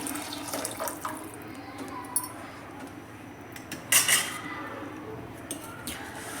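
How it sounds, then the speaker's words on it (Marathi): A tumbler of water runs and splashes into a pot of black ghevada bean amti, with faint metallic clinks of utensils and a brief louder clatter midway. "एक तांब्या पाणी ॲड करत आहे मी"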